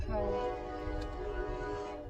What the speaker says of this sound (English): Oh yeah, the train.